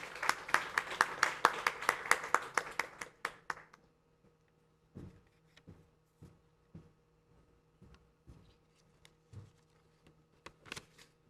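Applause from a graduation ceremony audience, a burst of clapping for several seconds that quickly thins out, followed by scattered faint taps, shuffles and a few last claps.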